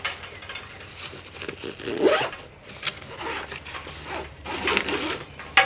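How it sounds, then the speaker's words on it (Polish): A full-length zipper on a Deuter bike backpack is pulled open in several close, rasping strokes with short pauses between them. "tutaj jest suwak na całej długości"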